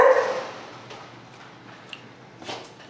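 A dog barks once loudly and close at the start, then a few fainter yips and whimpers follow over a quiet room.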